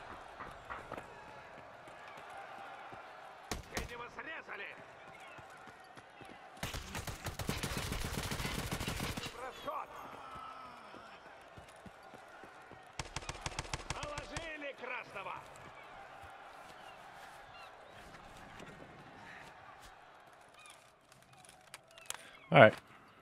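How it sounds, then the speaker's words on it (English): Bursts of automatic gunfire from Escape From Tarkov: Arena arrive in two long strings around the middle, with scattered single shots and footsteps between. A loud shot near the end stands out over quiet background game noise. "You're shooting your teammate."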